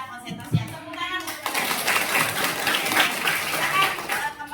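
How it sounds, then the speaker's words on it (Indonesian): A roomful of students claps hands on cue after some talk, the clapping quickly building into a dense, steady burst that lasts to the end. "Tepuk tangan."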